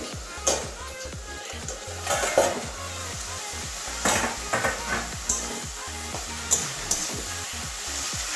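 Bottle gourd and pumpkin cooking in a pan with the lid just lifted, giving a soft continuous sizzle broken by occasional utensil clinks and scrapes against the pan, close up and moderate in level.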